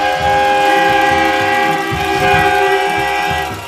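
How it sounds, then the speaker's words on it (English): Air horns blare at a high school football rivalry game, a loud, sustained chord-like honk with layered tones holding steady for several seconds over crowd rumble before trailing off. "And there are the air horns."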